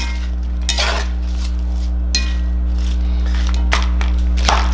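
Seasoned peppers tossed in avocado oil in a pan, with several brief scraping and clinking strokes of a utensil over a steady low hum, close and moderately loud, no voices.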